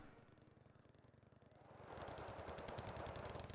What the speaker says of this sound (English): The Formosa's not suffering all that well under all that machine gun fire.